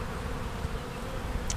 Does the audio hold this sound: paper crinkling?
no